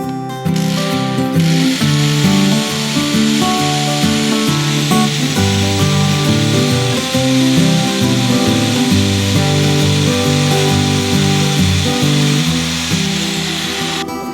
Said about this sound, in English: before I drill 3mm wide holes